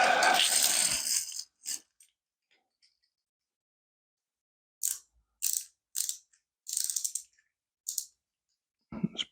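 A basic clockwork toy car's wheels whir and click as they spin, with one longer ratcheting burst at first, then a quiet gap and several short, sharp mechanical bursts close by.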